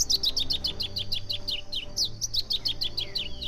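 Masked yellowthroat, or pia-cobra, singing its territorial song in a marsh: rapid repeated high whistled phrases in steady runs, close and clear over low background hum, with no talking.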